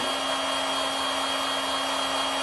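A heat gun runs steadily, drying acrylic paint during kitchen radiator repair work in a house renovation, producing a constant loud airy blowing hiss with a fixed electric whine and no pauses or voices.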